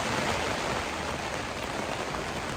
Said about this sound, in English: Well, it's raining, as you can hear, and the polytunnel does work,